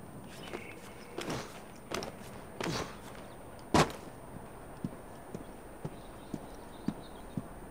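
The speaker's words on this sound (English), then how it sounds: "Magic horse ride." Horse hooves clip-clop on a street in the Assassin's Creed Syndicate video game, a light, steady walking rhythm with a few sharper knocks and a brief louder clatter, no talk.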